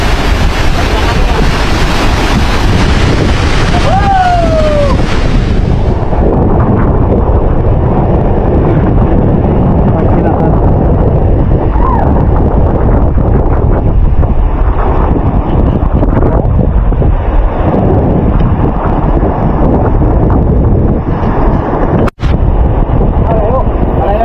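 Heavy tropical storm wind buffets the microphone in a loud, constant roar while water churns and splashes around a boat, with engines droning beneath and a sharp knock near the end.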